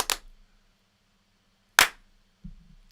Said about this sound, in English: Does that sound like two claps?